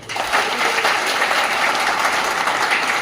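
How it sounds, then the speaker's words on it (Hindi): Loud, sustained applause from a crowd at a Teachers' Day felicitation program honors library volunteers, a dense steady clapping that continues evenly throughout with no voices over it. "इनके लिए जोरदार ताली"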